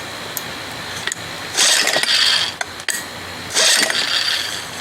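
A 1975 Johnson 4 hp outboard motor is pull-started with two strong rasping cord pulls a second apart, each a loud whirring burst that dies away without the engine catching, amid a few scattered clicks.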